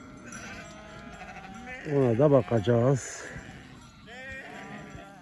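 Young lambs on a farm bleat in a short burst of several wavering cries near the middle, with someone talking before and another animal calling faintly after.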